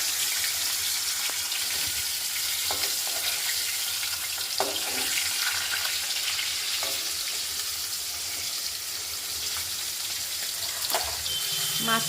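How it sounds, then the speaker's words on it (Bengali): Hilsa fish pieces fry in oil with a constant, close, even hiss and soft crackle, punctuated by a few faint clinks and light pops, with no voices present. "আমি মাছগুলো ভেজে নিচ্ছি।"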